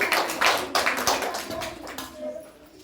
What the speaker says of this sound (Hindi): जोरदार ताली बजा रहे।